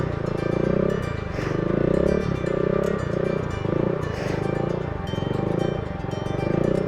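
A Honda Grom motorcycle engine hums steadily nearby, its pitch rising and falling with throttle changes, a continuous drone with no talking.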